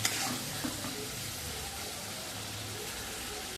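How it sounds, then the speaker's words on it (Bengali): Ginger garlic paste sizzling in hot oil while being stirred, a close, steady hissing fry with a few soft scraping stirs and no talking. "তো 3-4 চামচ মতো আদা রসুনের পেস্ট দিয়ে দেবো। দিয়ে দিলাম, দিয়ে একটু বেশ কিছুক্ষণ নাড়বো।"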